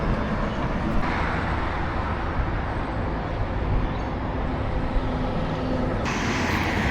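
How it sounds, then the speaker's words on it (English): Metro train passing through the Guangzhou suburbs near a reservoir, a continuous loud rumble and rail roar that holds steady for several seconds and brightens toward the end, with no talking. "Oh, here's the metro."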